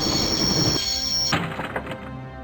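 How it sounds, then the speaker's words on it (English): Train braking to a halt in the 1996 Broken Sword: Shadow of the Templars video game: a loud sustained high squeal and rumble cut off abruptly, followed by heavy metallic thunks and clanks. "I'd always wanted to stop a train."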